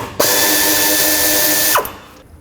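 A power tool spins a 10mm socket to back out the oil dipstick tube bolt on a 2003-2021 Chevrolet Express van: one loud, steady whirring burst of about a second and a half, close by, then it stops.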